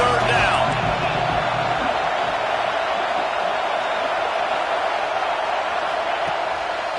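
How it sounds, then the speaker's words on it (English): A football stadium crowd roars on third down behind the defense, a thick, steady wall of noise that holds loud and even from start to finish. "Decibels rising as the crowd gets behind this defense on 3rd down."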